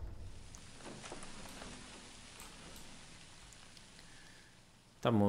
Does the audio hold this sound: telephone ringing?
no